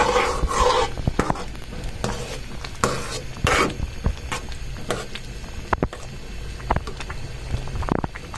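Onion and garlic fry in oil as a tempering for wheat khichuri with lentils and rice, giving a steady close sizzle broken by repeated scraping and stirring strokes of a spoon in the pan.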